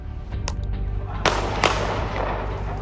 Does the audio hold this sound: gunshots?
yes